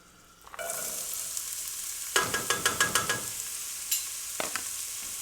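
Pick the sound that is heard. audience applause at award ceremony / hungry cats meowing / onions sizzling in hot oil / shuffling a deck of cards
onions sizzling in hot oil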